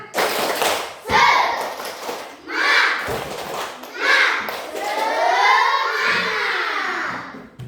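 Schoolchildren standing in a classroom do a rhythmic spirit clap, loud sharp clap bursts mixed with shouted, chanted children's voices in short repeated phrases, ending in a longer sustained group call.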